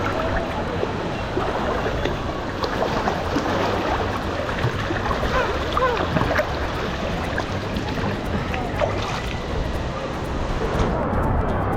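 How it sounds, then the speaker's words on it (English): Continuous sloshing and splashing of water around a small paddled canoe, close by and steady, with faint voices underneath. "It's Moana's boat. Her canoe."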